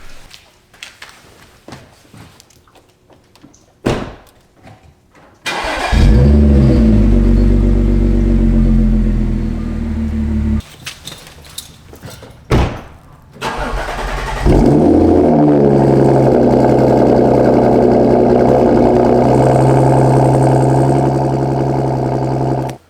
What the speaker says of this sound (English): I would like to give you guys a cold start on each car